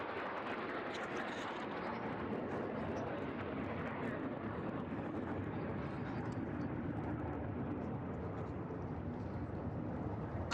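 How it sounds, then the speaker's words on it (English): An airplane passes overhead as a steady, broad, muffled roar that holds fairly constant from start to finish, with no other sounds standing out. "Wait for that plane to fly over."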